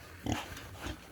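Hungry black-and-white pigs on a provincial farm, two short grunting snorts close by, separated by a brief pause.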